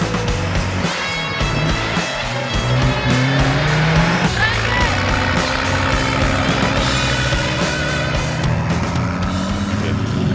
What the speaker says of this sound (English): It's a turbo diesel.